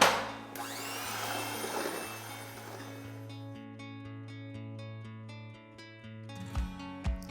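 An electric mixer beats three eggs into batter for a bean and chocolate cake, giving a loud, close motor whir at first that settles into a steady hum with light ticking and clatter.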